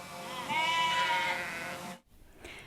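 A single sheep bleats close by, one drawn-out wavering call lasting over a second, then it stops abruptly and only a faint background remains.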